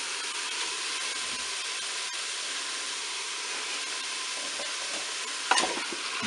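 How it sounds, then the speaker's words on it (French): Whole wheat spaghetti is stirred with mushrooms in the bowl of a Cookeo multicooker, a steady close sizzle and hiss of frying throughout, with a brief scrape of stirring near the end and no talk. "maintenant je vais ajouter mes spaghettis dans la cuve du Cookéo"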